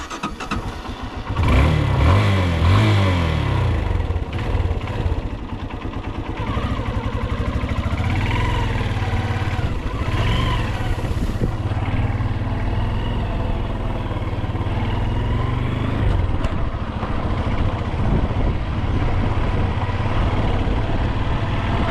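A 2013 Hero Karizma R motorcycle is ridden along a rough, slightly off-road path, its engine note revving and shifting pitch with a steady rumble and wind noise throughout, loud and close.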